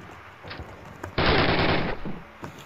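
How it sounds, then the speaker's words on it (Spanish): Automatic gunfire from the Call of Duty video game erupts in a loud, dense burst lasting under a second, preceded and followed by quieter scattered shots and ambient battle noise. "¿de dónde mierda me disparan?"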